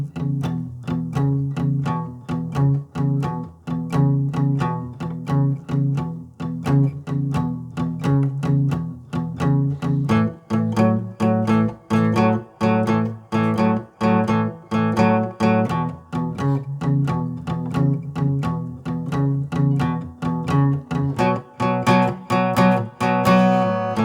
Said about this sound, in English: Now, I'm going to go ahead and demonstrate this with the 12-bar blues.